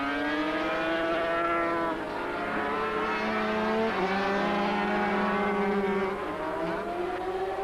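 A 1985 Suzuki 500cc racing motorcycle screams past in an ARRC race, its high, sustained engine note shifting in pitch as it heads into Yamaha corner, loud and continuous with other bikes close behind.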